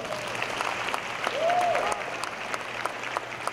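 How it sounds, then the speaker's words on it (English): An audience at a fall convocation gives a round of applause, a steady, moderately distant wash of clapping with a faint tonal sweep briefly rising through the middle. "Let's give that band and the theater department another round of applause"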